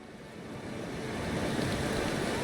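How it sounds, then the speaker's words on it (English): Hurricane winds and storm waves at sea in Pillars of Eternity II, a dense, rushing roar of surf and gusting wind that builds slightly in loudness, with no voices. "Hurricane winds roar like an imprisoned beast, blowing with enough force to warp the very seas"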